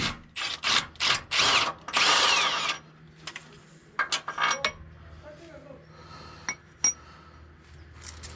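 Power wrench on a 2019 Ram Power Wagon backing out a stubborn bolt during a steering brace install: a series of short, loud, close bursts followed by lighter metallic clinks and handling noises.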